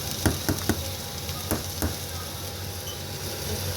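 Sliced coconut pieces drop into a pan of Christmas-special beef curry, giving a few soft knocks and taps over a steady loud sizzle.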